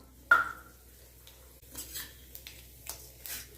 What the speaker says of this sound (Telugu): దీంట్లోకి ఇప్పుడు 1 స్పూన్ ఆవాలు వేస్తున్నాను.